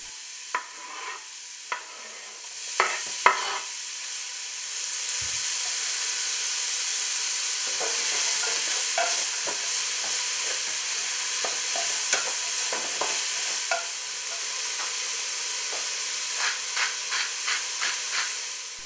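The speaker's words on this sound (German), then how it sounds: "dann geben wir jetzt auch die Zwiebeln mit hinein. Und die braten wir ebenfalls an." Onions frying in a pan alongside browned meat give a steady hiss and sizzle, broken by scraping stirs that cluster near the start and again toward the end.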